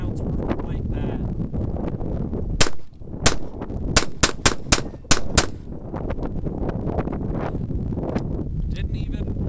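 A Shield pistol fires a magazine of rounds outdoors: about eight sharp, loud cracks, with a short pause after the first couple and then a quicker string. Wind buffets the microphone and voices talk before and after.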